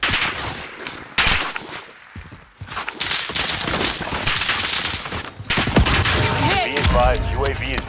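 Bursts of rapid gunfire and machine-gun fusillades crackle loudly in a video game firefight, coming in choppy waves with brief gaps, mixed with radio-style game voices.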